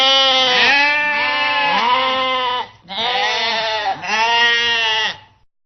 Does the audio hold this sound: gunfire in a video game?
no